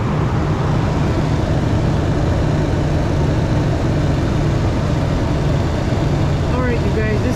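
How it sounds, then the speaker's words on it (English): A car engine idles after a cold start, producing a steady, continuous low hum with broadband mechanical noise that stays even throughout. "let's go ahead and start up the engine and see what it goes up to"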